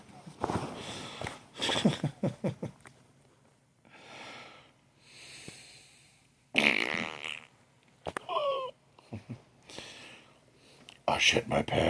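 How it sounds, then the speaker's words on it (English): A fart breaks out during a loud live talk show, a short low rumbling burst set among stretches of lively chatter and laughter from people in the room. "Yes, I farted."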